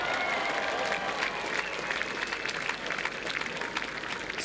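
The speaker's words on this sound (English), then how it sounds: "I'll just go through the names if you can give your applause as we go through" A crowd at the Touch World Cup applauds a Hall of Fame inductee, steady clapping that holds at a moderate level for a few seconds without talking.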